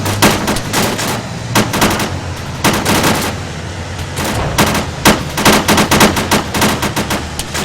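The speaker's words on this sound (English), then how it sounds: "There's a lot of fire coming in right now." Arma 3 battlefield gunfire with JSRS3 Dragonfyre and Blastcore Phoenix sound mods: loud machine-gun bursts in rapid irregular volleys, some close and some distant, with echoing booms and a low rumble between bursts, no voices.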